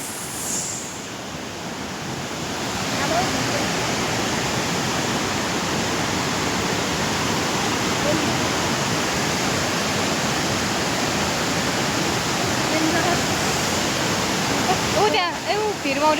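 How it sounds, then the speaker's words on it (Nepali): A river rushes near the Mailung waterfall, making a loud, steady broadband roar that fills the whole stretch, with a brief voice near the end. "खोला हेर गाइस।"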